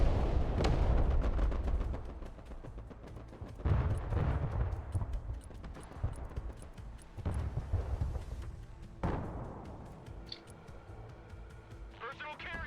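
Rocket artillery bombardment from a HIMARS launcher in the war game Broken Arrow, heard as repeated heavy booming launches and rumbling impacts that come in several waves and fade between them.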